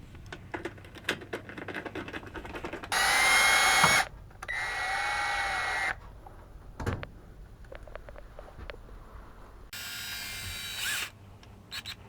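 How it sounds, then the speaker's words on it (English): A power drill drives screws into the 12V converter panel of a Keystone Cougar fifth wheel, whirring in three separate bursts of about a second or two each, with light clicks and handling noise between them. "Now put your 6 screws back in."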